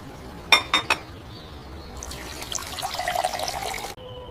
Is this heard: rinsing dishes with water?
yes